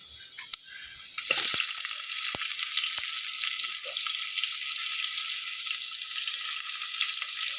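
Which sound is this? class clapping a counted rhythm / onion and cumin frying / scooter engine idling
onion and cumin frying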